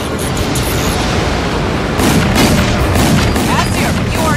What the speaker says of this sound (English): Target locked. Missile away.